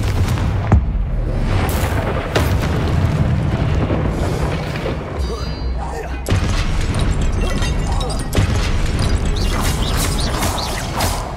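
Repeated Confringo blasting-spell explosions in the Hogwarts Legacy video game, loud booming bursts against dense rumbling game noise, several sharp blasts spaced across the stretch with no talk.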